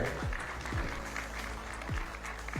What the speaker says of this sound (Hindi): मैम के लिए एक बार जोरदार तालियां हो जाए